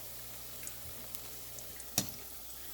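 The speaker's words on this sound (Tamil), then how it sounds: "நல்லபடியாக பிரட்டி பிரட்டி நாங்கள் அதை பொறிக்க விட போகிறோம்" Paneer 65 frying in hot oil, a soft steady sizzle running quietly throughout with one sharp spatter crackle partway through.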